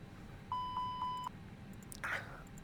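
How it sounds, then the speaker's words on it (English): Cockpit of an FSLabs A319 airliner in a flight simulator game gives four evenly spaced, clear electronic beeps at moderate loudness, followed a moment later by a single brief chirp. "The airplane's going to make some beeping noises"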